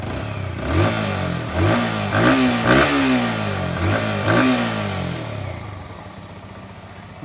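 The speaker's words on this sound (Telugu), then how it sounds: "ఇంజన్ స్టార్ట్ చేశాను కదా, సో ఇక్కడ ఎగ్జాస్ట్ సౌండ్ కూడా వినండి" A 2025 Yamaha MT-15 II base variant motorcycle engine revs through its exhaust in a series of rising, aggressive throttle blips, loud and close, before settling back to a steady idle.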